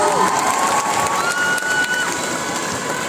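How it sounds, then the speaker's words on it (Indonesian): A fan meet-and-greet crowd applauds and cheers steadily at a constant loud level, a broad wash of clapping and crowd noise with a faint tonal hum running through it. "Boleh minta tepuk tangan sekali lagi yang pada semangat."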